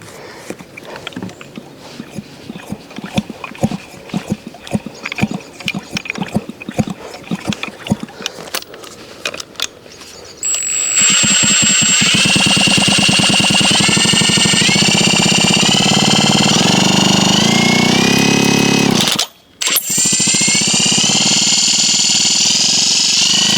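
A small 50cc Poligny engine on an MBK 51 moped is kicked over with rhythmic thumps and then fires up, running loud and close with a rising, wavering buzz and a short cut-out near the end.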